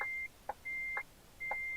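A truck's repeated electronic beep in Euro Truck Simulator 2, a DAF, sounds as steady sustained tones evenly spaced, alternating with short softer clicking ticks, clear and moderately loud with no talking.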